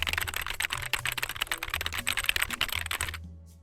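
Fast, close clicking of a computer keyboard, a steady stream of keystrokes that stops abruptly near the end.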